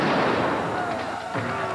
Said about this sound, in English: He ordered them to fire in volleys, one rank moving up to fire, while another rank reloaded.